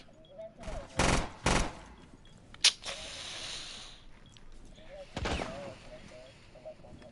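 Pistol gunshots in a video game, a few sharp loud shots in quick succession followed by another crack and a later burst, with faint speech and game sounds between them.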